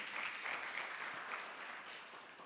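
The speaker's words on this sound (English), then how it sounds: "Once again, a round of applause for Dr." Applause from an audience at a virtual SME business summit, a faint, steady patter of clapping that sounds distant and thin and tapers off slightly toward the end.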